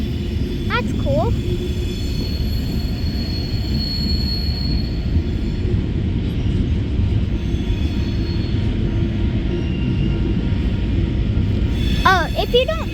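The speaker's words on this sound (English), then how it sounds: "Train's starting to move." A train gets underway with a steady low rumble of wheels on rail throughout, and brief high wheel squeals near the start and again near the end; a voice is faintly present.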